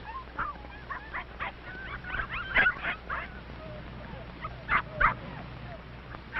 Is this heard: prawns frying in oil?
no